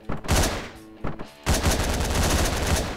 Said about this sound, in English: so many bullets missed me there